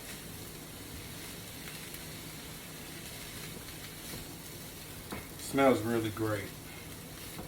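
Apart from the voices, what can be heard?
turkey chili being stirred and mixed in a pan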